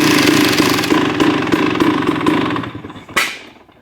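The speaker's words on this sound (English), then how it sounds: "that backfire, people ask me about that all the time" A 2023 KTM 300XC two-stroke dirt bike engine revs loudly up close, then sputters down and lets out one sharp backfire pop near the end as it dies away.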